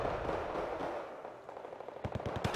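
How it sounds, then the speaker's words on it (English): An airstrike in Wargame: Red Dragon starts as a broad, roaring rumble that fades, then breaks into rapid, sharp bursts of cracking fire and impacts toward the end. "So we're just going to go ahead and airstrike that whole thing."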